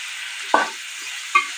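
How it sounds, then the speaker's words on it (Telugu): Fenugreek leaves and onions stir-fried in oil make a steady sizzle, broken by two close scraping stirs of a spoon in the pan. "మెంతాకు నూనెలో ఉల్లిగడ్డలలోనే మెంతాకు వేసుకోవాలి, గోలాలి మంచిగా."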